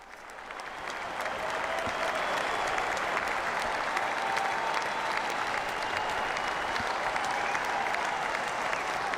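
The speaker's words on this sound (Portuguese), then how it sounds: "Ainda mais uma intensa e calorosa salva de palmas ao Papa Francisco, ao término desta celebração eucarística." Sustained applause from a large stadium crowd for Pope Francis at the close of an outdoor Mass at Commonwealth Stadium, Edmonton, swelling over the first two seconds and then holding as a dense, steady roar of clapping.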